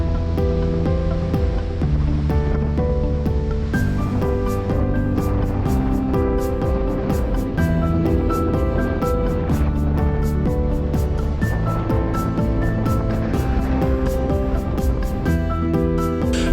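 Surf breaking against a natural rock barrier on a sandy beach on Fuerteventura's west coast on a strong-wind day, a loud, continuous roar of crashing waves and wind with a steady wash throughout and no speech.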